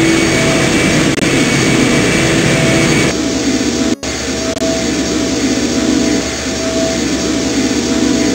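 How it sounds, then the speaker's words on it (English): An engine roars in the video game I Have No Mouth and I Must Scream, a loud, steady, jet-like drone with a low rumble that fills the whole stretch, broken by one brief dropout midway. "The engine's starting up again."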